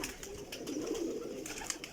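Pigeons give soft, low coos in a quiet loft, faint and murmuring against light background noise, with a few scattered small clicks and rustles.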